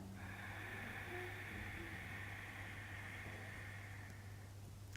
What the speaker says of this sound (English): It's called Ujjayi breath.